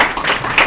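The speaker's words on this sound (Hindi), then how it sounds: "ताली बजाओ" Students clapping in an entrepreneurship club meeting room, a brief burst of scattered, fairly loud handclaps lasting under a second.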